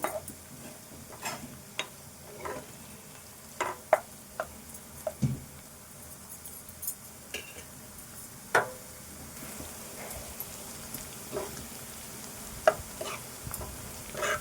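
Onions fry in a pan for Telangana chicken soup with a faint, steady sizzle, broken by scattered light clicks and taps as a spoon stirs them.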